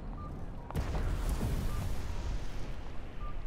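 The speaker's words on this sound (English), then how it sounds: "They're shooting off fireworks." Fireworks going off in the video game NEO: The World Ends with You, a sudden loud burst followed by a sustained rumbling, crackling roar that continues steadily.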